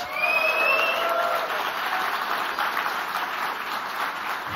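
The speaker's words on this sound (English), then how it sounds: "Please make some noise for WhiteRa in the crowd" Crowd at a DreamHack esports event applauding: a dense, even wash of clapping with a shrill whistle near the start, holding steady for several seconds at moderate loudness, no speech on top.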